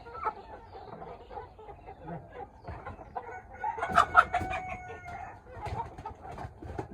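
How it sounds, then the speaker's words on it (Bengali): A flock of about twenty-two tiger chickens and native hens, kept together, clucks and chatters close by, with a brief crow rising in the middle amid busy overlapping calls. "এখানে আমাদের 22টা মুরগি আছে"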